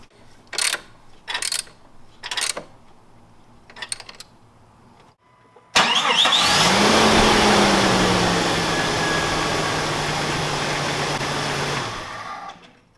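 A few sharp clicks, then a Jeep Cherokee engine cranks and catches, settling into a loud, steady idle that runs for several seconds before cutting off, testing a newly fitted belt.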